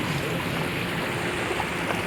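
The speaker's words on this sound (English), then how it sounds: "You guys can see it's amazing waterfall." Waterfall roaring as a dense, steady rush of water, loud and unbroken throughout, heard on a scooter ride from Mumbai to Lonavala.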